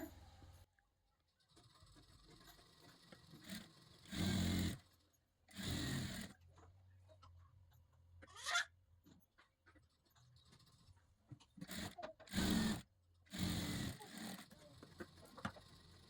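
A sewing machine stitches a katori blouse in short, separate bursts of rapid whirring, several runs of a second or so each with quiet gaps between them, close and moderately loud.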